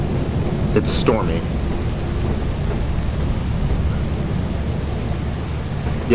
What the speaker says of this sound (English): It's stormy.